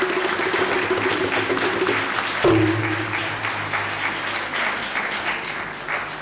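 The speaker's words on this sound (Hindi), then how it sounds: "भरपूर तालियां होनी चाहिए।" A church congregation applauds to congratulate the priest on his anniversary, a full, loud burst of many hands clapping that carries on and slowly eases off, with a low steady hum underneath.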